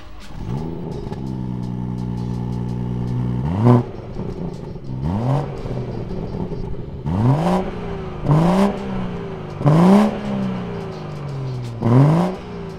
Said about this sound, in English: How does the M240i sound? A bit like this.